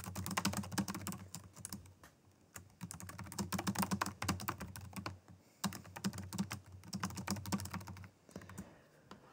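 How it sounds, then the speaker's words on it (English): Fast, steady typing on a computer keyboard while writing an email message, dense runs of close key clicks with brief pauses between bursts and no talk. "And now I can type my message."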